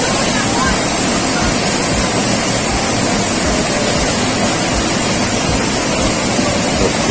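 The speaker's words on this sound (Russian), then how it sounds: "Водопады." Waterfalls in a gorge in the Perm region, a loud, constant broadband roar of falling water that fills the whole span without a break.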